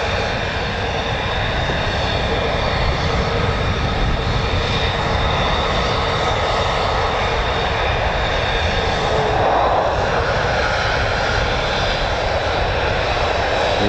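Steady, loud roar of an F-35A fighter jet at an air force base, a broad continuous engine rush holding level for the whole stretch with no pauses or talk.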